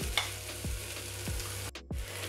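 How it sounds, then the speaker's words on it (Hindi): Grated boiled potatoes are stirred into a sweet corn mixture in a pan for bread rolls, with a spoon scraping and thudding at a regular pace at close range, with soft sizzling underneath. "आलू को डालने के बाद बढ़िया से सारी चीज़ों आलू के साथ में मिला लें"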